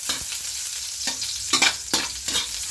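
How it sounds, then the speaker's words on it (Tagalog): Garlic, onion and tomato sautéing in a pan for a dish of ginisang upo with chicken: a steady sizzle broken by several loud, sharp scraping stirs of the spatula, no voices. "igigisa na po natin tong sibuyas, kamatis, bawang"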